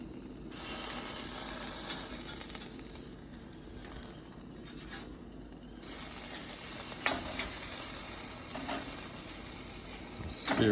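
Meat searing on a Schwank infrared grill gives a steady close sizzle and hiss, with occasional scraping and clinks of handling over the continuous frying noise.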